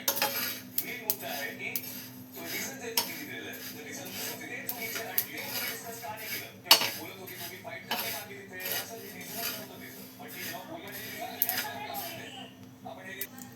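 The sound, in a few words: sesame seeds dry-roasting and stirred in a pan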